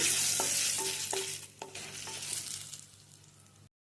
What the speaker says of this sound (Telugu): ఆవాలు, జీలకర్ర వేసుకోవాలి. ఎండుమిర్చి వేసుకోవాలి. వేయించుకోవాలి మొత్తం ఎర్రగా.